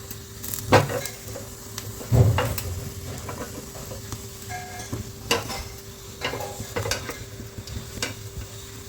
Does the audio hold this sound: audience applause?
no